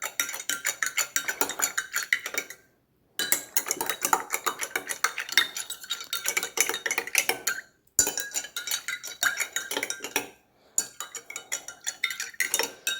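A spoon stirs a stomach remedy into water in a glass, giving close, quick metallic clinks in repeated bursts broken by short pauses.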